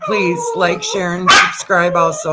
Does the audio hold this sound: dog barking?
yes